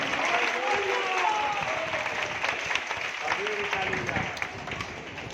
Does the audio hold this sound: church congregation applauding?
yes